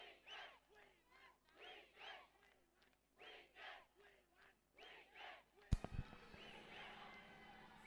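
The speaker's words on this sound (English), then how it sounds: "you can hear the chants of wicket, wicket here in the crowd" Cricket crowd at a women's T20 World qualifier between Nepal and Thailand chanting in rhythmic two-beat bursts, repeated about ten times at a distance, then a sudden loud roar of cheering.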